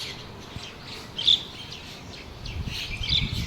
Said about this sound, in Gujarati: જો મારી બાલ્કનીની અંદર પક્ષીઓ પહોંચી ગયા.